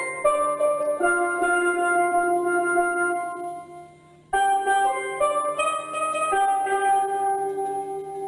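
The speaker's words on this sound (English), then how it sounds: "So a tenor would sound like this." Tenor steel pan struck in a short melodic phrase, its bright, ringing metallic notes sustaining and overlapping, loud and close, with a brief dip before the playing resumes and no talking.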